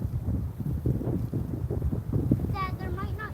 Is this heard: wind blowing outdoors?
yes